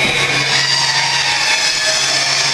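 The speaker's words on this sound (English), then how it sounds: "Cutting people up easy, use a chainsaw, everyone knows that." A chainsaw runs nonstop at close range in a haunted-attraction backstage area, giving a loud, even, buzzing drone with no breaks.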